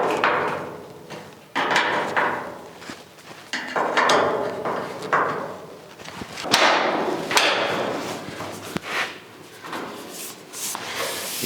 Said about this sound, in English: We're going to lock the latch in at that point.